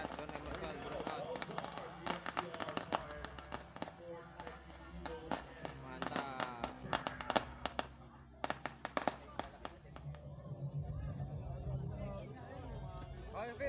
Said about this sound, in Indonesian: Victory lap akan dimeriahkan oleh kembang api